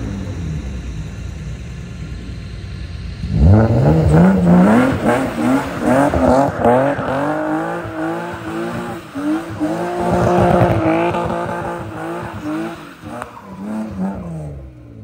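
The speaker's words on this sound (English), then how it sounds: "Boys out here burning rubber." A BMW E36 M3 with a rear seat delete and cage burns rubber: after a quiet idle, the engine revs hard as the tires squeal loudly and continuously, with the pitch climbing and wavering for over ten seconds.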